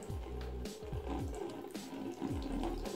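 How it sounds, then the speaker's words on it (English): A kitchen tap trickles slowly and steadily into a sink for a static-balloon water experiment, a soft, continuous low-level running sound with a faint hum underneath and no talking. "Now let's get the water running very slowly."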